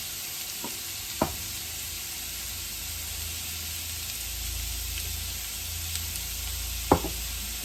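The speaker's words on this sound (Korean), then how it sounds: "무를 볶아주시면 돼요" Radish stir-fried in a pan gives off a soft, steady sizzle, with a few clear knocks and scrapes of a utensil against the pan now and then.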